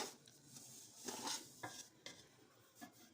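Semolina (suji) being dry-roasted in a pan for panjeeri, with soft scraping and stirring strokes of a spoon against the pan coming in irregular bursts, fairly quiet, with no talking.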